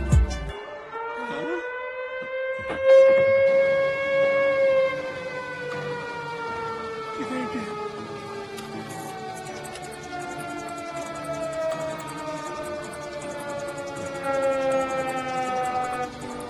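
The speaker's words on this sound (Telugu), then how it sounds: "సైరన్" A civil-defence-style siren wails loud and sustained, its pitch rising and then slowly sinking over several seconds as it drones on alone.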